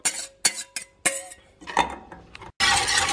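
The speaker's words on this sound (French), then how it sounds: "Je remets le tout dans la casserole." A French custard mixture of milk, sugar and cornstarch is poured back into a saucepan, with sharp metallic clinks and scrapes of utensils against the pan, then a steady pouring rush at the end.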